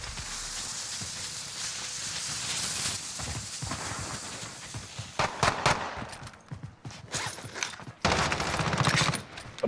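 Gunfire from the Call of Duty Warzone video game, including an R9-0 Dragon's Breath shotgun, comes as dense, loud bursts of shots and chaotic action noise that peak sharply toward the end.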